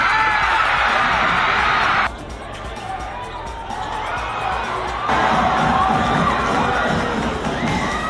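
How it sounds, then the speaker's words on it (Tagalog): Supporters roar and cheer inside a gymnasium during a first-quarter college basketball game, WUP Riders against NEUST Phoenix; loud sustained crowd noise with high whoops and shouts, dipping briefly midway before surging back up. "hiyawan ng mga taga-suporta ang maririnig sa loob ng himnasyo"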